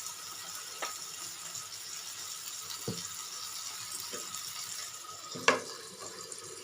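Prawn patoori wrapped in pumpkin leaves fry in a little oil in a pan, a faint, steady sizzle with a few soft clicks and knocks, heard alone with no talk.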